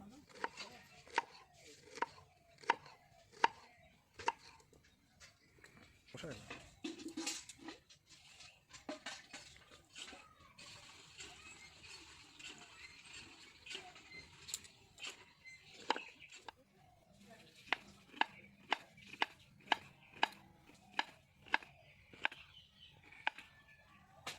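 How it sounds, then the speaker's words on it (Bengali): Star fruit (kamranga) being sliced with a knife, sharp regular chops against a board in quick bursts with short pauses, close and fairly faint, birds and a little kitchen clatter in the background. "সব কামরাঙাই একইভাবে কেটে নেব"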